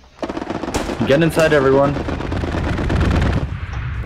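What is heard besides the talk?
strafing run aircraft gunfire in Hell Let Loose video game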